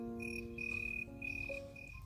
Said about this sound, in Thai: เสียงของคริกเก็ตนะคะหรือว่าจิ้งหรีด